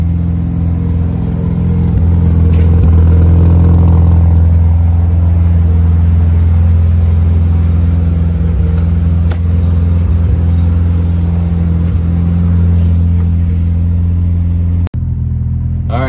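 Mazda RX7 rotary engine fitted with headers while driving, a loud steady low droning rumble heard from inside the car, holding constant before cutting off abruptly near the end.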